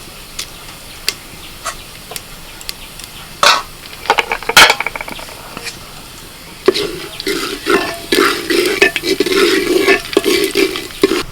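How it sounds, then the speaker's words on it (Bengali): Bay leaves and a dried red chilli hit hot oil in a clay pot, giving a few sharp crackles and pops before a steady, close sizzle builds and continues to the end. "ফোড়নে দিচ্ছি দুটো তেজপাতা একটা শুকনো লঙ্কা"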